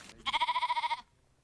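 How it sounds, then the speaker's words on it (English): An Icelandic sheep gives one drawn-out, wavering bleat with a quick pulsing tremble, clear and fairly close, lasting under a second before quiet settles in. "Sophie and her husband, Lynn Nardella, raise Icelandic sheep."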